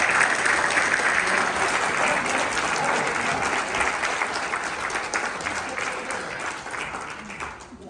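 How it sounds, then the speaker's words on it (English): Sustained applause from a large audience at a U.S. citizenship ceremony, dense and steady clapping that gradually fades toward the end, with some crowd voices mixed in. "Let's give them all a round of applause."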